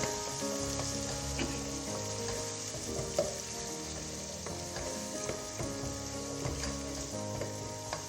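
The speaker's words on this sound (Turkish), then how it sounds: "Yine bu şekilde biraz kokusu çıkana kadar kavuracağım." Pepper paste and tomato paste fry in a pan with a steady close sizzle, while a utensil stirs and scrapes against the pan at intervals throughout.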